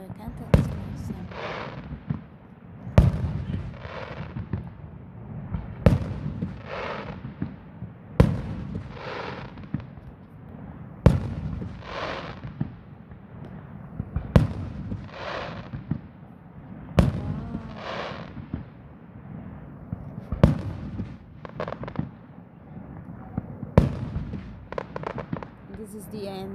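Fireworks go off outside a house around the Fourth of July, with sharp bangs every few seconds followed by crackling bursts, while people talk throughout.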